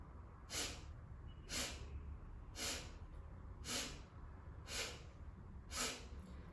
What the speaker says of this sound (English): You have to exhale through your nostrils.